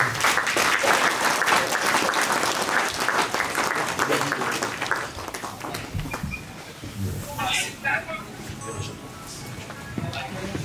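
A church congregation applauds and cheers during a funeral service, dense sustained clapping filling the room for several seconds before thinning into scattered claps with voices mixed in.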